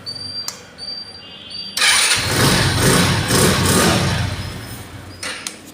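A scooter's electric self-starter whirs briefly, then the engine catches and settles into a steady, close idle that holds for several seconds before fading slightly.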